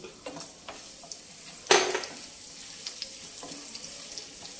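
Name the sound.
garlic, lentils, mustard seeds, cumin, chillies sizzling in hot oil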